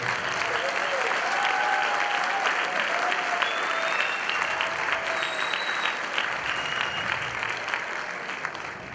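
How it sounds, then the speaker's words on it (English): An audience at a public meeting gives itself a round of applause, a thick, continuous burst of many hands clapping at close range that holds strong for the whole stretch and fades only slightly near the end, with faint voices beneath. "I think you should give yourselves a round of applause for turning out such great numbers."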